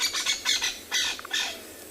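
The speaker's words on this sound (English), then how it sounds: "It's this crested Franklin that's making the alarm." Crested francolin alarm calls on a sunset safari at Tswalu: harsh, raspy squawking bursts repeated in a quick, uneven series, moderately near and outdoors with a faint hum underneath.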